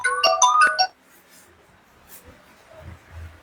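Phone ringtone for an incoming video call, a short bright melodic jingle of repeated tones at close range that stops abruptly, followed by near-silence and faint background movement.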